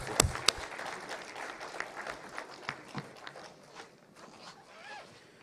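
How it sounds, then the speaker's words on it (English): Audience applause at a stakeholders meeting on weather and climate services, a brief scattered patter of clapping heard faintly at a distance that thins out over a few seconds. "Please give a big applause for all the speakers."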